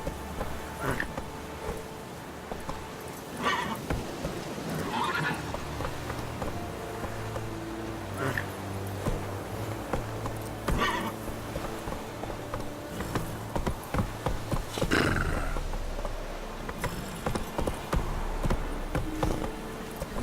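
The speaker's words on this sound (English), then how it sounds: "Run, Roach" Horse hooves galloping in The Witcher 3 game, a continuous rhythmic clip-clop of hoofbeats over a low rumbling game soundscape, steady and close throughout with occasional sharper accented beats.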